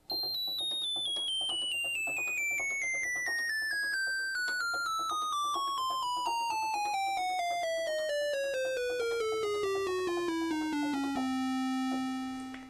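A bright tone on the 2-foot register of a Moog Opus 3 synthesizer sweeps steadily downward in pitch for several seconds, then holds a sustained note before cutting off.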